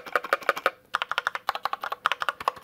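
Keys clacking in quick bursts on a 65% gaming keyboard, including the sprung space bar, with dense rhythmic presses, a short pause, then more rapid typing, close and fairly loud with no talk.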